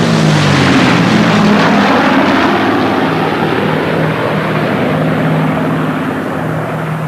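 A wartime Lancaster bomber with other historic aircraft flying past at the Biggin Hill air show, a loud steady multi-engine propeller drone with a low throbbing hum that slowly fades as it passes.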